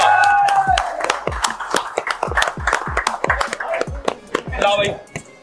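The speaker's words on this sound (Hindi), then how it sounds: "एक बार जोरदार ताली बजाओ" An audience at an Indian student competition claps in a brisk, rhythmic volley of sharp, loud hand claps, with a voice and cheers briefly mixed in near the end.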